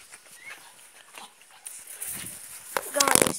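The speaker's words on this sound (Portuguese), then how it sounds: "Meu cachorro tava arrancando o rabo do Félix" A dog close by making short yelps and whimpering sounds that grow louder and more agitated toward the end, mixed with people's voices and some handling noise.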